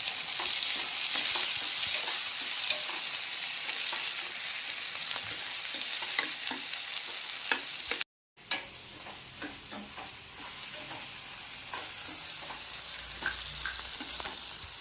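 Chicken curry with chana dal and coriander fries noisily in a pan, a continuous loud sizzle with scattered scrapes and clicks of stirring and a brief dropout partway through; no speech.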